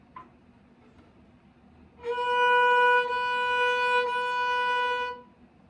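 A single clear bowed violin note, a string tuned to B, sounds for about three seconds after a faint click, steady and bright with rich overtones, then stops.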